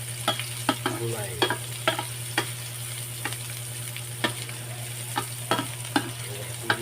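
Sautéing in a pan for ginataang mangga, with a steady background sizzle and a low hum, punctuated by sharp metallic spatula taps and scrapes in an irregular rhythm, close and clear with no voices.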